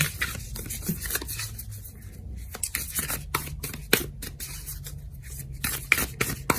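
A deck of tarot cards is shuffled by hand in a series of crisp riffles and soft slides, the papery flutters coming in irregular bursts up close with no talking.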